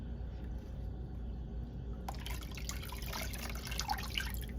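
Water runs steadily as water-marbled nail polish on fingernails is rinsed, a continuous close splashing flow that brightens and grows busier partway through.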